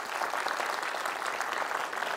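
An audience at a parenting talk concert claps to welcome a pediatrics professor, producing dense, even applause that fills the room without a break.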